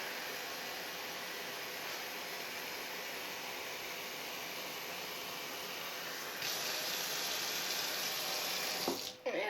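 A steady rush of water pours into a rice cooker pot over rice, continuous and close for several seconds, brightening slightly near the end before stopping abruptly.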